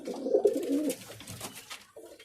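Male Cheena pigeon cooing close by, a soft throaty coo rolling over about a second, followed by a shorter low note.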